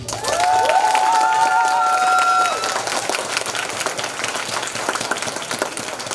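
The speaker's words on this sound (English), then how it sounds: "Let's give a round of applause to everybody." Applause rings out from an audience at a grade-school graduation ceremony, a dense, steady clatter of many hands clapping with a few shouts and cheers, loud at first and easing to a lighter patter.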